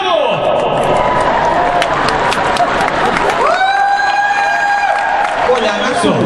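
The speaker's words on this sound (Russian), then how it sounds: "Встречайте аплодисментами" Applause from a concert audience welcoming a singer on stage at a 2011 Discodacha show, loud, dense clapping with whoops, over which a sustained sung or synth tone rises partway through.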